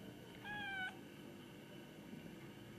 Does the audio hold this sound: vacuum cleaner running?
no